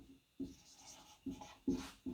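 A pen scratches across paper in short, separate bursts, close and clear, with no talking.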